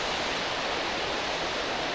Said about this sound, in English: the waterfall I've come to see is literally right down there